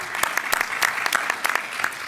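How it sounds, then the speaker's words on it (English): A conference audience claps in a brief, steady burst of applause, many hands close together with sharp individual claps standing out over a dense patter. "Big round of applause for you all"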